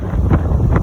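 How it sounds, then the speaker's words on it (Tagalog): Strong wind roars and gusts through trees, buffeting the microphone with a heavy, rushing noise. "binabayo ang puno ng hangin"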